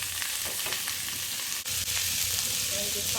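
Steamed kharkol stalks fry in oil with onion, chili and cumin while being stirred; a soft, steady sizzle is broken by a few sharp scraping stir strokes.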